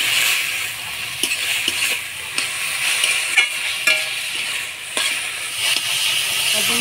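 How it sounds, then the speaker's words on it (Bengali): Dhekia fern greens fry in a pan with turmeric, salt and green chili, giving a steady close sizzle and hiss, broken by scraping and clicking as a utensil stirs the greens now and then. "ঢেকে শাকটা হলুদ লবণ আর কাঁচা লঙ্কা দিয়ে ভালো করে নাড়াচাড়া করে নিলাম"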